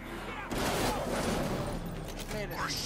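Bursts of video-game gunfire from Batman: Arkham Knight crackle in rapid volleys over a loud, dense mix of effects and voices.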